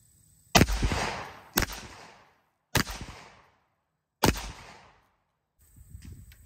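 Four loud, sharp blasts from an unsuppressed 12 gauge shotgun fired outdoors, evenly spaced about a second apart, each followed by a rumbling echo that fades before the next shot.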